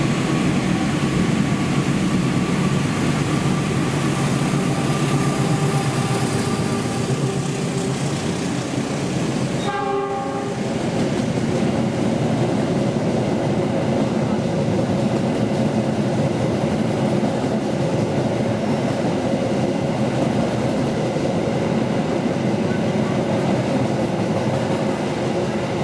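A direct express train races past at high speed, its steady roar of wheels and rushing air filling the whole stretch, with a brief horn burst midway as the carriages thunder by.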